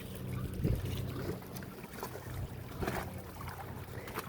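A small dinghy zips across open water with a continuous rushing wash and low rumble, buffeted by wind noise on the microphone.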